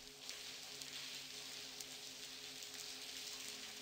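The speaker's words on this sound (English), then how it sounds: "It's pouring outside." Faint, steady hiss of rain pouring outside in the adventure game The Blackwell Convergence, an even wash of drops with a soft low hum and no voices.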